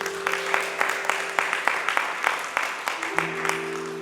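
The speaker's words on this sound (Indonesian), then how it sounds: "Tepuk tangan dulu untuk Tuhan." A church congregation at a Sunday worship service claps in a steady, regular rhythm, each beat sharp and evenly spaced, over a sustained held keyboard tone that shifts near the end.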